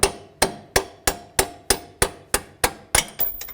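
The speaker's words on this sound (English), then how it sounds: "I'm going to use a punch and a hammer to get this bolt out" Steel hammer blows on a punch driving a strut bolt out of the steering knuckle on a 2003–2007 Cadillac CTS front passenger side suspension: about eleven sharp, evenly spaced metallic strikes, close and loud, with ringing decay and no talk.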